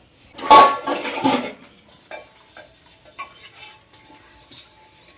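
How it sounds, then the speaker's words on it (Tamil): Dishes being washed: clattering pots and clinking utensils, a loud burst at first, then lighter scattered knocks and scrapes. "இப்போ பாத்திரம் கழுவுறேன்"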